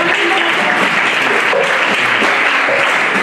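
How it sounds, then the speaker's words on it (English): A crowd at an on-stage performance claps loudly and continuously, a dense, even roar of many hands that stays strong for the full few seconds, with faint voices mixed in. "Give the Lord a big round of applause."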